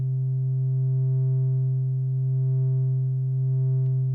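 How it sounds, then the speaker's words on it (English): A steady, low synthesizer drone whose filter frequency is modulated by an LFO, giving a gently wavering, slowly pulsing tone, sustained evenly for several seconds with a tiny click near the end. "Right now our filter frequency is just moving"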